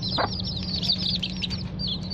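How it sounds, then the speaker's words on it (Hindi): A mother hen with her ten newly hatched chicks, the chicks peeping continuously in thin high chirps close by while the hen gives a brief low cluck near the start, under a steady background hum. "ये वही मुर्गी है, इसका पिछली बार मैंने आपको दिखाया था इंडोर बिठाते हुए"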